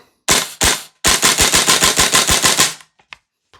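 VFC V3 URGI 10.3-inch M4 gas blowback airsoft rifle emptying a magazine: two single shots, then a rapid burst of about fifteen sharp, loud cracks in steady rhythm, trailing off into a couple of faint clicks.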